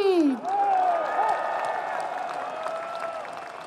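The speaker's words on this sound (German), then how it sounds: "Bitte begrüßt mit einem großen Applaus" Audience applause and some cheering greeting a speaker taken onto a stage at a German event, a sustained crowd clapping under a loud voice speaking over it.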